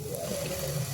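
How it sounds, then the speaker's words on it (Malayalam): A little water trickles into prawn biryani masala in a pan, a short steady pour heard up close. "ഇച്ചിരി വെള്ളം ഒഴിക്കാം"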